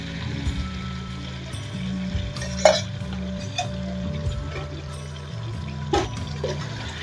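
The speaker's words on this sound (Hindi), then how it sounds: "घी में हम अच्छी तरह से भून लेते हैं इसको।" Steamed beef frying in ghee in a pot for karela gosht: a steady low sizzle with occasional stirring clinks and scrapes, moderately close, no talking.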